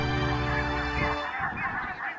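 Geese honk in flight during a goose hunt. A dense chorus of overlapping honks sounds close and loud, with a thick low flutter that cuts off abruptly before fainter, scattered calls continue.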